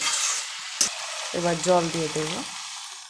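Water poured into a pan of potato and pointed gourd masala, a loud steady frying hiss followed by a bubbling, gurgling burst as the liquid hits the hot spices, with faint voice-like tones in the middle.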